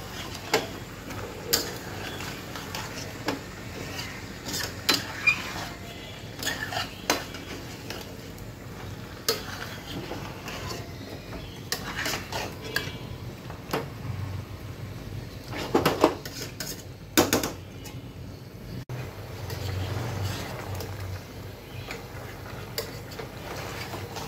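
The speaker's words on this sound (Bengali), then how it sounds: "তো এখন ভালো করে নেড়ে চেড়ে দিচ্ছি।" A spoon scrapes and clinks against a pan as chicken curry with homemade sour yogurt is stirred, producing scattered close metallic taps and scrapes over a low steady background.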